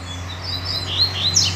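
A double-collared seedeater (coleiro) sings outdoors in nature, high thin chirping phrases over a steady low background hum, moderately near and fairly faint, with no talk.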